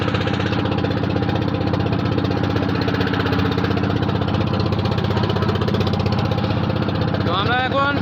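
A boat engine runs steadily on the river near the second Farakka barrage, a loud, close, continuous throbbing drone that holds an even pulse throughout.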